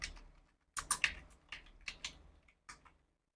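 Fingers type on a computer keyboard in a few quick, faint bursts of clicks close by, separated by short pauses, with no voices.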